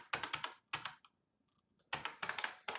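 Bursts of computer keyboard typing while code is entered, several quick clattering runs of keystrokes close to the mic, separated by a short quiet pause.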